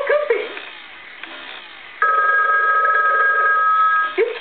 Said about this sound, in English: Oh boy, a phone call!